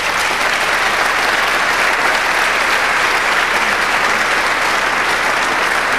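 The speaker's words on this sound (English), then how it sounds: "Give her a round of applause, ladies and gentlemen." An audience at a snooker trick-shot comedy show applauds a volunteer, a thick, even burst of clapping sustained at full strength throughout with no speech.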